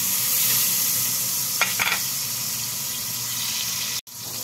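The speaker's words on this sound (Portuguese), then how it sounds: "Então vou botar aqui, ó, a linguiça pra fritar" Sausage sizzles loudly and steadily frying in bacon fat in a hot pan, with a brief scraping stir partway through.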